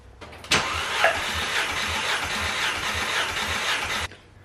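VW GTI 2.0T engine with a broken valve spring cranking on the starter during a compression test, a steady rhythmic churning for about three and a half seconds, close and fairly loud, then stopping.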